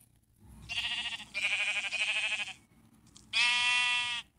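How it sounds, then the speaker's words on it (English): Three clear, close sheep bleats from the video game Minecraft, each a short wavering baa, separated by brief gaps with no talking. "Now let's spawn some sheep."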